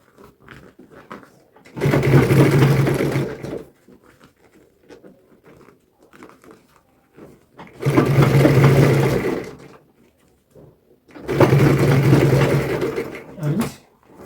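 Sewing machine topstitching a mini bag in three loud, distinct bursts of rapid stitching, each lasting about two seconds, separated by quiet gaps.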